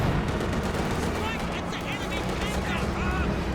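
Strafing gunfire from an AT strafe run in the Company of Heroes 2 real-time strategy game, a dense, continuous rattle of shots and battle noise mixed under ongoing speech for the whole stretch.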